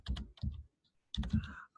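Computer keyboard typing in two short clusters of quick clicky keystrokes separated by a brief pause, close and clear, no talking.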